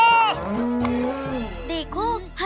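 A buffalo in a Hindi animated cartoon gives a long, loud, wavering moo that rises and falls in pitch, then adds a couple of shorter bellows, close and clear.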